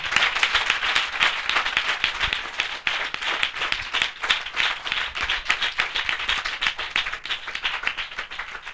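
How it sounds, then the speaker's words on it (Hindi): Loud, dense applause from a crowd at a Christian spiritual assembly, with vigorous, closely packed hand claps keeping a busy, slightly rhythmic pulse throughout and no talking. "हम जोरदार ताली से उनका स्वागत करें"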